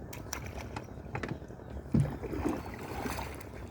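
A wooden boat being rowed on the Sandhya river while fishing for hilsa, with soft oar splashes and water lapping against the hull in a continuous low wash, a single sharper knock near the middle.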